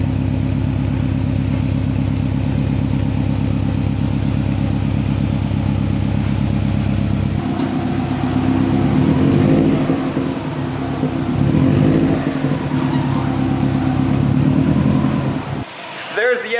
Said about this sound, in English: We have the STI, it's running, it is warming up